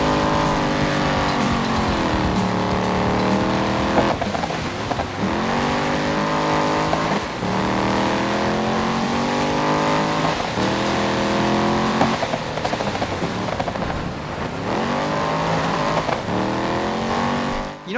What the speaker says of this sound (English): I'm going to let you guys listen to the game sound, because this car sounds very meaty